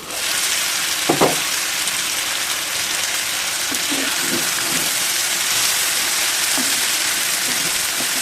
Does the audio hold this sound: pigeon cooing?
no